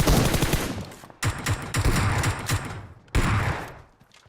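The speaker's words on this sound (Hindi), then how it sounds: "भाई शॉटगन चला रहे हैं, MK14 भी चलाई गई बॉट पे" Gunfire in PUBG Mobile from an M4, a shotgun and an MK14 comes as a loud volley of rapid shots, then a short gap, then another burst of heavy shots that fades at the end.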